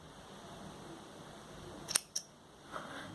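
A pair of quick, faint scissor snips cut crochet yarn against a steady low background hiss, with the two clicks falling close together.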